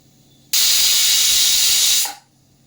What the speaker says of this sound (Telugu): ఇంకో విజిల్ కూడా రానిస్తాను మీకోసం.